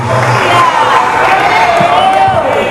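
A church congregation at a choir congress in Guarulhos, Brazil, cheers and applauds as a loud, dense crowd roar with whoops and voices throughout.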